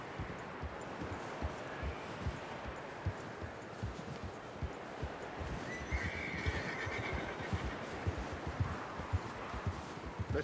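Horse neighing and clip-clopping hoofbeats in the video game Red Dead Redemption 2, with steady repeated hoof impacts over a continuous outdoor ambience and whinnies rising above.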